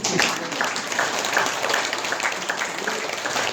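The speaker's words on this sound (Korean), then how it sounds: "한번 박수 한번 쳐요 우리." Audience at a Won Buddhist enlightenment day service claps together when prompted, a moderate, even patter of many hands applauding for a few seconds with a faint hum of the room behind.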